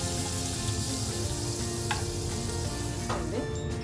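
Cake batter poured into a hot buttered pan for a pizza-style crust sizzles steadily and loudly, with a dense continuous fry hiss and a couple of brief scraping clicks, no voices.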